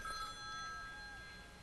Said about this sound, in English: That's my phone ringing over here.